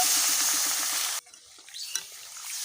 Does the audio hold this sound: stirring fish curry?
yes